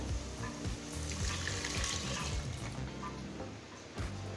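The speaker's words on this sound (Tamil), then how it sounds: "இப்போ தேங்காய் பால் 2 கப் சேர்த்துக்கலாம்." Coconut milk poured into a pressure cooker over sautéed vegetables, a continuous close liquid splashing and gurgling that runs for several seconds before tapering off, with no voices.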